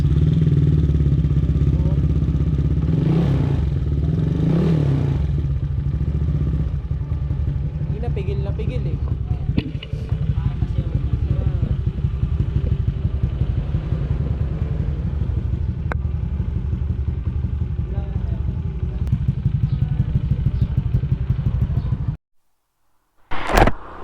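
A loud motorcycle engine with its silencer removed roars close by through a JVT 2.4 pipe, rumbling steadily with a couple of sharp revs early on, then cutting off abruptly near the end.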